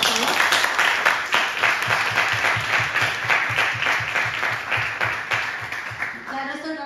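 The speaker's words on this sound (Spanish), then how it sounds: "Un aplauso, por favor." Audience applause at a Spanish-language event, a dense steady wash of many hands clapping for several seconds, with a low rhythmic beat running underneath and a voice starting to speak as it fades at the end.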